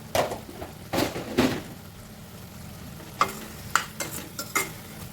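Mixed leafy greens bhaji with chilli is stirred in a pan, with a few scraping strokes and clinks against the metal over a low, steady cooking hiss.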